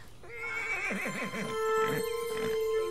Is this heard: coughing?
no